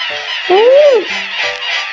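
A swan gives a single nasal, trumpeting honk that rises and falls, loud and near, over a steady background of wind-like outdoor noise.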